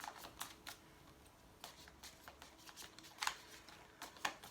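Tarot cards are shuffled and drawn during a card reading. Soft, faint flicks and riffles come in irregular bursts with a few sharper snaps as cards are handled, with no talking.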